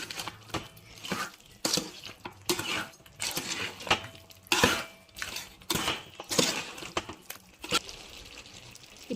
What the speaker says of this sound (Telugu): ఈ కారం అనేది ముక్కలకు పట్టేటట్టుగా మొత్తం ఇలా కలుపుకోవాలి.